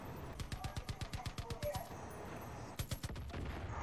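Rapid bursts of gunfire from the video game Far Cry 5, a quick run of evenly spaced shots, a short pause, then another brief volley, fairly faint against low background game sound.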